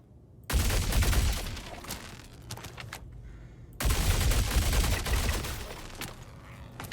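A Fresnel Volt light machine gun in a video game fires two long, loud sustained bursts separated by a short pause.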